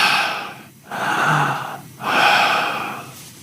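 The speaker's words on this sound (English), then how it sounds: "We played the audio tape back, and we hear deep breathing." Deep breathing on a played-back audio tape recorded during paranormal investigation sessions: three slow, heavy breaths, each a loud hissing swell separated by brief pauses, close and alone.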